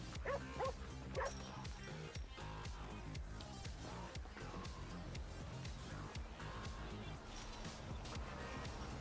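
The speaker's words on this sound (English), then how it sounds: "What are you yapping about, dog?" Dog barking and yapping in the GTA video game, a run of repeated sharp barks and yips with some whimpering, fairly close, heard over steady game background noise.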